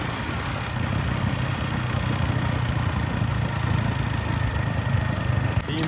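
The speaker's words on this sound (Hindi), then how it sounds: "1-2 बाइक्स वो आगे और 2 बाइक्स ये जा रही है।" Several motorbikes ride off together on a village trip, their engines giving a steady mid-pitched drone that holds at an even level throughout, with no talk over it.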